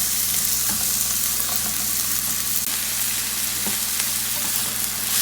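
Food browning in a pan for curried rice and lentils, a steady close sizzle and fry with a few faint stirring scrapes, no talking.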